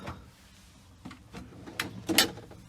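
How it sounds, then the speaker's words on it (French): Large kitchen drawer in a Hymer T698 CL motorhome slides open with a short run of rubbing and rolling scrapes, ending in a sharp clack as it stops. "Un grand tiroir."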